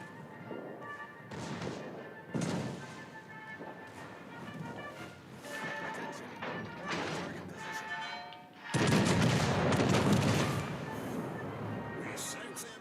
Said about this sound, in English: Another wave of bombs from our carrier.